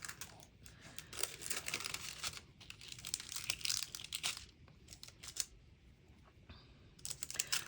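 Plastic film on a diamond painting crinkles and crackles close by in quiet, irregular bursts of rustling and ticking.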